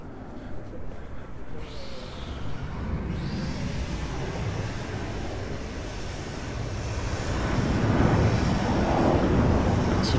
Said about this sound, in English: And here they're coming into land.